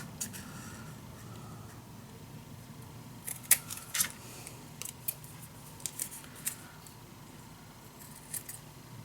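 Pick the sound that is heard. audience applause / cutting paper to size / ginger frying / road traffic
cutting paper to size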